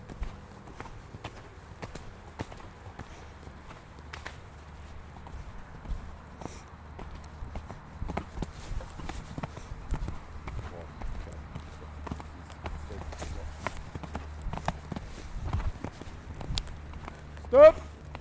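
Faint, irregular horse hoofbeats clop on the ground at a walking pace during a riding lesson, with quiet background noise and a brief sharp sound near the end.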